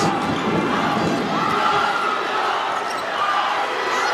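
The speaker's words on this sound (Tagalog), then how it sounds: "You hear the cheers once more" Crowd at an MPBL semifinal basketball game between Pampanga and Nueva Ecija roars and cheers after a free throw, a loud, steady wall of voices with some chanting that fills the whole clip, faint talk beneath.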